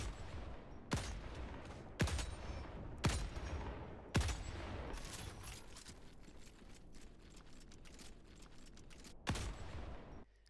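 Anti-materiel rifle shots in the Helldivers 2 video game, four sharp, evenly spaced loud reports followed by mechanical reload sounds and one more shot near the end.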